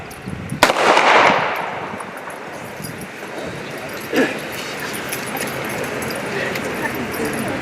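A Memorial Day rifle volley cracks out as a single sharp report, followed a few seconds later by a second fainter shot, with outdoor ambience and murmuring people in between.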